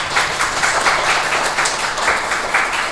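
A church congregation at a Sunday worship service applauding to welcome visitors, dense steady clapping from many hands filling the room for the whole stretch.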